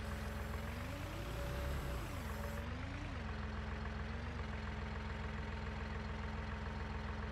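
A tractor engine in Farming Simulator 19 rumbles steadily at low revs as it eases into a shed, its pitch dipping and rising briefly early on before settling into a constant close idle-like drone, no voices.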